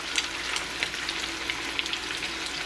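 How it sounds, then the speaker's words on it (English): Breaded fish frying in a pan, a dense continuous sizzle with crackling pops scattered throughout, close and steady with no talking. "Oh, look at that sizzle."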